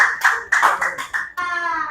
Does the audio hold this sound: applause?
yes